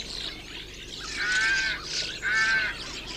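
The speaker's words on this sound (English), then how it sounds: "that was a rook, wasn't it? That was a rook." Rook cawing in a garden, two loud harsh calls a second apart, close by and alone with no talk.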